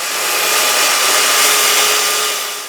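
A power saw cuts through a mobile bench frame that is being made smaller. It gives a loud, steady whining roar for nearly three seconds, alone and close, then eases slightly at the end.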